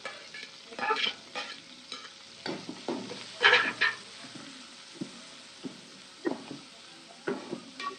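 Sliced onions drop into hot oil with green chili and sizzle at moderate volume, while a spatula scrapes and clatters in repeated strokes throughout, with no one speaking.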